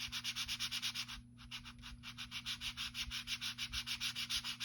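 Rhythmic back-and-forth strokes of 3200-grit sandpaper rub an interior dash piece from a Pro Street GTO by hand, steady and close with one brief pause, and no talking.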